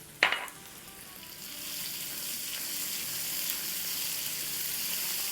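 Crushed garlic and ginger hit hot frying oil for a masoor daal with a sharp initial clatter, then settle into a steady, bright sizzle that holds evenly to the end.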